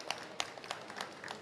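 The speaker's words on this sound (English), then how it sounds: "please give a round of applause" Audience at a COP30 sustainability event applauding, a short burst of scattered, fairly faint claps from a modest crowd, irregular rather than sustained.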